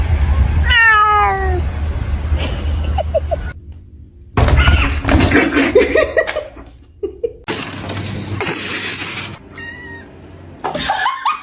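A cat shut inside a kennel meows repeatedly, short rising and falling cries interleaved with thumps and rattling of the kennel, with people laughing and talking nearby.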